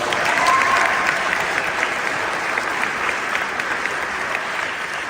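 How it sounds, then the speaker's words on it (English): Keynote crowd applause at a conference, broad and even, many hands clapping at a sustained level throughout, sounding full and moderately loud in a large room. "If we can give them a round of applause."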